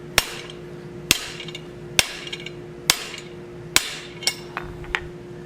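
A blacksmith's hammer strikes hot steel on an anvil while shouldering down a forged plant hanger: sharp ringing blows land about once a second, with lighter taps between, close and loud.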